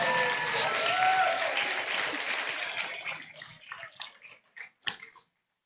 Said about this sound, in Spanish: Qué bueno que aplauden